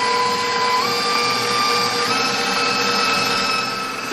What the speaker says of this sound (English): you need a lot of strength of the mixer to whip that heat out and get it nice and fluffy